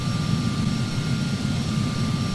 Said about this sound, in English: here comes an airplane coming in. Looks like a Phenom